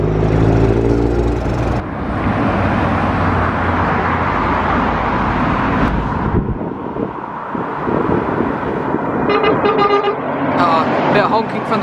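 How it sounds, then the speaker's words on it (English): A big vintage lorry sounds its horn several times at a busy car meet, loud toots over wind noise and passing engines, with people talking nearby. "A bit of honking from the big lorry."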